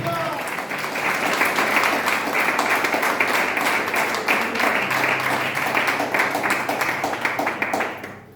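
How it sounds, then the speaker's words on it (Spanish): A church congregation breaks into loud, continuous clapping during a sermon, the dense applause holding steady for several seconds before tapering off at the end. "Aplaudan que vive en esta hora."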